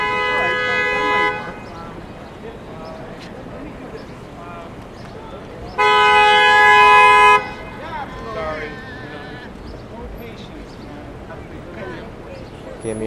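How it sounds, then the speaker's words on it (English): Car horns honking on a busy Manhattan street near Union Square, two sustained toots at the start and middle, loud over city traffic and people talking. "Give me another honk."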